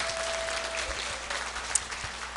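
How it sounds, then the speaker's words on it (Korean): An audience at a district talk concert claps warmly for the Jongno district mayor, a thick and even round of applause that holds steady throughout. "다시 한번 청장님 박수로."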